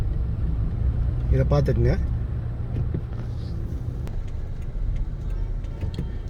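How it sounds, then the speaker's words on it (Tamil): Heavy road traffic passes near a hotel, a steady low rumble of engines running throughout with a person talking over it. "கடுமையாக டிராஃபிக்காக இருக்குது."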